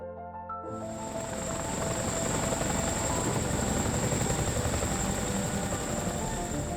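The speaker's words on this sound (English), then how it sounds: "seeing the Chinook cruise by" A Chinook twin-rotor military helicopter cruises past on a rescue mission near Mount Rainier, its loud, steady rotor and turbine roar holding strong throughout with a high whine on top and no talk.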